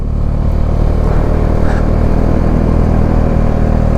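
A Bajaj Dominar 400 motorcycle engine drones steadily and loud while climbing a high mountain road toward a pass, a continuous close-up hum with wind rush and no talking.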